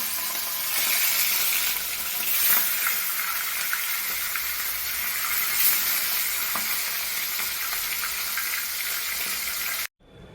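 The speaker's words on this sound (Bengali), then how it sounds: "তেল গরম হয়ে গেছে ভালোভাবে। মাছের মাথাগুলো আগে ভেজে নেব।" Katla fish heads frying in hot oil, a loud, dense, continuous sizzle that cuts off abruptly at the end.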